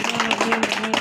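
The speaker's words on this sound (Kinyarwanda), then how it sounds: "Amashyi menshi cyane." Audience in a church gathering claps loudly, a dense patter of hand claps with a sustained musical tone underneath, lasting about a second.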